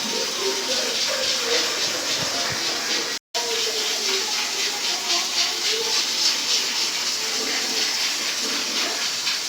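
An electric grinder runs steadily with a loud whirring hiss while blending tomatoes, garlic, ginger, green chilies and water for palak gosht, with a brief cut-out partway through.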